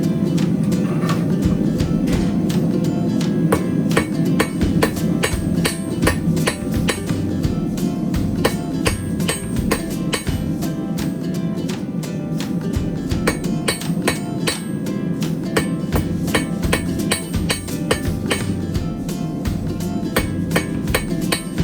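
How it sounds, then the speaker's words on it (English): Hammer blows ringing on an anvil while forging the taper of a meat skewer, a long run of sharp metallic strikes at a brisk, fairly steady rhythm with short pauses, loud and close, no talk. "instead of half-face hammer blows, I'll be keeping the hammer entirely on over the anvil"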